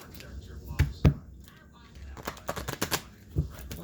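Cards are shuffled by hand in several short bursts, riffling and tapping at close range with brief pauses between.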